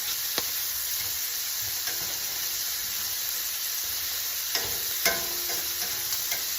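Shrimp sizzle in a pan as they are turned while cooking for a gnocchi alla vodka dish, giving a constant close hiss broken by a few sharp clicks and spatters.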